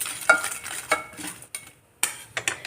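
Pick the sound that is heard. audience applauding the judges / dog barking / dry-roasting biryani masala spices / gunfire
dry-roasting biryani masala spices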